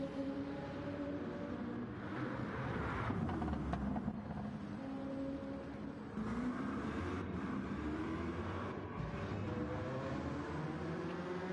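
Racing game cars on a flying lap at the Deep Forest circuit, with engines droning and shifting pitch in a continuous, moderately quiet roar that swells and dips as cars pass, without any talk.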